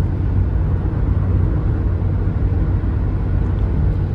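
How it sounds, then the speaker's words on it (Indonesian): Constant loud road roar from tires several years old rolling over a concrete road, a broad steady rumble heard from inside a moving car. "Ya bannya berisik. Karena mungkin udah berapa tahun sih bannya."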